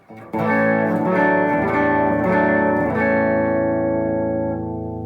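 Clean, undistorted electric guitar played ahead of a Donner Dark Mouse analog distortion pedal demo: a strummed chord rings out loudly, a few notes are re-struck, and the sound sustains and slowly fades.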